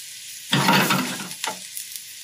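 Onions sweating in a pan for an egg white mushroom omelette, sizzling loudly as they are stirred, with a strong burst of frying followed by a second shorter stir and quieter crackles.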